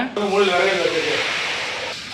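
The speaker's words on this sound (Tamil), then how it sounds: "வெங்காயம் புதினா வதங்கிட்டு இருக்கு" Onion and mint sautéing in a pan for Dindigul-style biryani give off a steady broadband sizzle and hiss, close and continuous, while someone talks over it.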